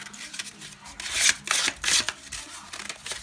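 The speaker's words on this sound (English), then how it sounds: "The edges are real rough, so you need to sandpaper. I'm using 500 right now." Sandpaper of 500 grit rubs across the rough cut edges of a bolo tie piece in short, quiet scraping strokes, several separate passes with brief pauses between them.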